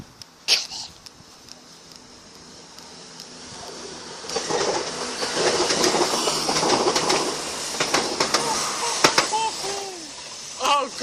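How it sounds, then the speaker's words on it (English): A Class 170 diesel unit passes through Shepreth junction, its broadband rumble building from a quiet start and staying loud for several seconds, with a few sharp clanks and a short horn-like tone near the end, while a voice calls out excitedly. "Come on, 170! Come on! Come on, you lovely locomotive!"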